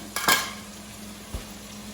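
Hot microwaved potatoes tipped into hot oil in a pan, a brief burst of sizzle and clatter followed by a faint steady fry and one soft knock, quiet and close.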